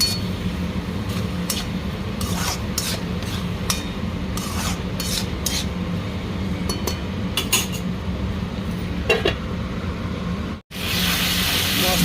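Ginger garlic paste and tomato sizzling with fried onions in a pan, a steady close frying hiss with scattered clinks and scraping of a utensil, ending with a brief cut and a harsher burst of sizzle.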